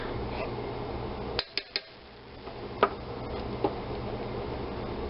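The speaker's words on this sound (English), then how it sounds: "Let's try to scrape off some of the excess back into the pot" A spoon scrapes excess ham and cheese polenta off itself back into a pot, giving a few short, sharp metallic clinks and scrapes that sit close and moderately loud over a steady low kitchen hum.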